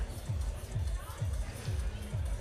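A stadium crowd at a decathlon pole vault event in Götzis keeps up a broad, roaring din, with low rhythmic thumps landing about twice a second like collective clapping or stomping.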